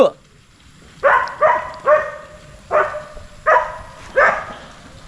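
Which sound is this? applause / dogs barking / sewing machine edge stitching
dogs barking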